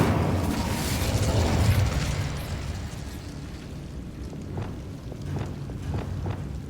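An Incendio fire spell cast in Hogwarts Legacy: a loud, rushing burst of flame that swells over the first two seconds, then fades into a lower crackling rumble with a few faint pops.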